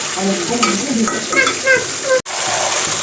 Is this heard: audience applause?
no